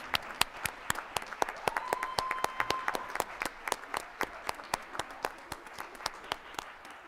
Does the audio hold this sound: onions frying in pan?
no